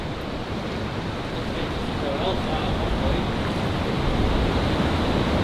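Someone wades through water in an underground river tunnel beneath Manchester, giving a steady, loud wash of splashing and churning water that swells slightly, close to the mic.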